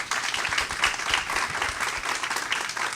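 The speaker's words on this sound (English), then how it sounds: "And we can give them a round of applause now." Audience applause fills the room after a startup panel at Dallas Startup Week, a steady dense wash of many hands clapping at moderate loudness for about three seconds, with no talk over it.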